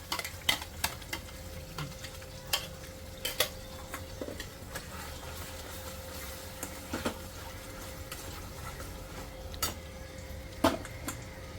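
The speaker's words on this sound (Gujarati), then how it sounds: "થોડો પેસ્ટ શેકાઈ જશે" Masala paste fries in oil in a pan and is stirred now and then. A faint, low sizzle runs under sparse, sharp clicks and scrapes of the spoon against the pan.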